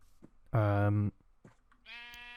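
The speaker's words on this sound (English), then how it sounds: "Come on, Mr. Sheep" A Minecraft sheep gives one loud, clear bleat of about half a second, followed by a softer, shorter bleat, with faint talk in between.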